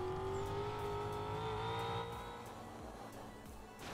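A Devel Sixteen hypercar accelerating in the New Vehicle Simulator video game: a loud, steady engine tone with rising harmonics that holds strong, then eases slightly in volume partway through, with no talking.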